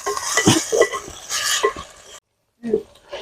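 Ginger garlic paste is stirred and sautéed in a pan, with close clinks and scrapes of a spoon against the metal, a soft sizzle underneath and a brief silent pause before the stirring resumes.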